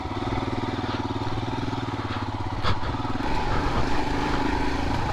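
A Royal Enfield Himalayan motorcycle engine runs off-road with a steady, throbbing single-cylinder thump close by, rising slightly in revs partway through, with a brief clatter and little else over it.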